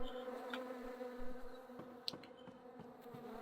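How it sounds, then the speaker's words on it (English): Bees buzz steadily around a portal in the video game The Secret World, a continuous droning hum with a few brief clicks over the top, close and moderately loud, with no speech. "as you can see, the bees are here around the portal."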